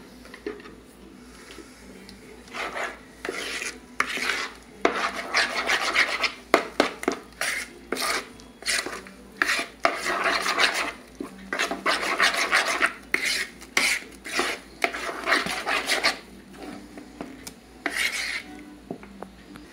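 A spoon stirs apple and oat cake batter, made without wheat flour, milk or sugar, in a bowl. The close, irregular scraping and rubbing strokes repeat steadily with no talk.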